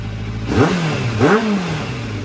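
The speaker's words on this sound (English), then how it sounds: "Revs up lovely." A motorcycle engine idles, then is revved twice in quick succession, each rev rising sharply and falling back to idle.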